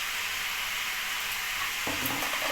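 Prawns and pumpkin shoots are stirred together in a hot pan, giving a steady hiss and sizzle with a fuller scraping, stirring texture joining in about two-thirds of the way through; close and continuous, with no talking.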